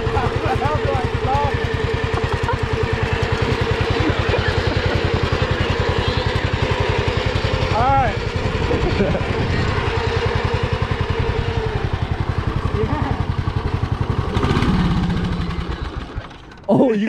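A racing lawn mower engine running steadily and loudly close by with a rapid, buzzy putter, while voices talk over it before it sputters and dies near the end.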